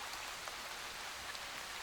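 Steady, even rain patters continuously on surfaces on a hot day, a close, dense hiss of falling drops with no pauses.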